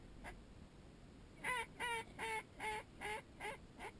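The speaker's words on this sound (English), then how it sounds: "Mallard, Drew." Mallard duck quacking outdoors during a hunt, first a single faint call and then a run of seven or so loud rhythmic quacks spaced evenly, fairly close.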